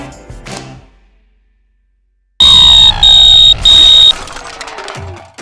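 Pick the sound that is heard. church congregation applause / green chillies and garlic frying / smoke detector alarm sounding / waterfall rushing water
smoke detector alarm sounding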